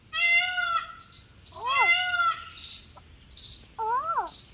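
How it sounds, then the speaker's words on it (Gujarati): A peacock calls several times on a farm with loud, wailing, rising-falling cries, separated by short pauses, against quiet background rustle. "જો મોરલો બોયલો ભાઈ"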